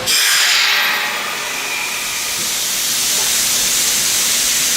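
Compressed air hisses loudly and steadily from opened pneumatic air lines in a workshop, a close, continuous rushing blast that barely fades.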